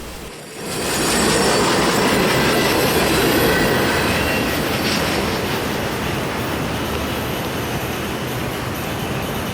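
A train rumbles past in South Florida, loud and close, with a steady roar of rolling wagons, metallic wheel squeal and rhythmic clickety-clack that holds for most of the stretch before easing slightly.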